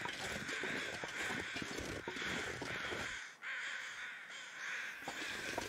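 Crows caw repeatedly in a bleak outdoor survival game setting, the harsh calls layered over a steady windy background hiss, moderately distant and with no talk.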